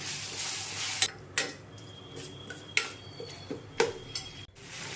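Chopped tomatoes being lightly sautéed in a pan for a lake-fish curry, a soft sizzle under several sharp metallic clinks and scrapes of a spoon against the pan, spaced irregularly and close by.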